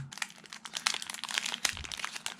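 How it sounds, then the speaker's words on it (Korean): Crinkling plastic packaging torn open close by, unwrapping a Tower Records ginte holder with dense, continuous rustling and crackling. "그래서 짧은 긴테를 한번 뜯어볼게요"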